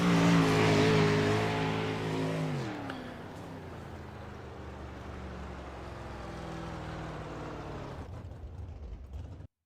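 An outlaw 305 sprint race car in the iRacing sim rolls out onto a speedway, its loud engine droning steadily and dropping in pitch after an early high rev, then holding an even, close rumble.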